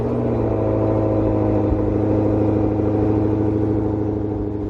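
A 2026 Maserati Grecale Modena with a V6 engine gives off a loud, steady engine drone that holds an even pitch throughout, close by, with no voices.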